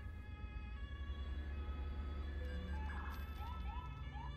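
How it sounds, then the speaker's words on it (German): Emergency vehicle siren in the truck-driving game Euro Truck Simulator 2, faint rising wails repeating over a steady low engine drone, with no talking. "Das Martinshorn gehört nicht zu einer deutschen Polizei."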